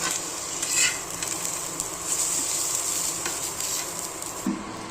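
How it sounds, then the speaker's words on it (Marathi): Tomato masala fries in a pan over low gas, a steady soft sizzle with light stirring and occasional clinks of a utensil against the pan. "आता आहे ना गॅस मी कमी केलेला आहे, हा मसाला भाजून घेतो."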